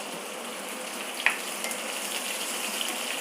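Onions sauté in a pan with a soft, even sizzle that holds steady throughout, with a single brief tap of a utensil partway through, near and with no talking.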